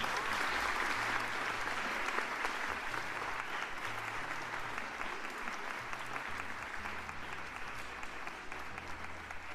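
Steady, dense clapping from a group runs throughout at a moderate level, with faint low tonal notes from music playing underneath.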